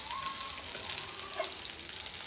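Soft pabda fish fry in hot oil in a home kitchen, a steady fine sizzle with light crackling pops, fairly quiet and continuous with no talking.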